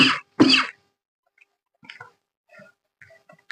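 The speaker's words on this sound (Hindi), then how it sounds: "खांसी आ रही है।" Two sharp coughs close by in quick succession, then near silence with a few faint small rustles.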